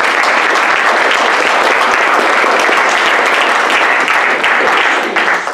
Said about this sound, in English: let's give speaker 3 and 4 a big round of applause